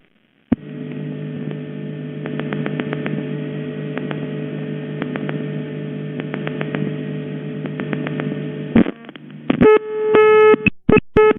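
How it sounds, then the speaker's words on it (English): A call to a non-working five-digit number on a Ukrainian or Russian crossbar telephone switch: a steady buzzing tone with clicks runs for about eight seconds, then stops, and a series of sharp, clean tone bursts follows near the end. "The following recording is a call to a non-working number on the tributary that requires the full 5 digits."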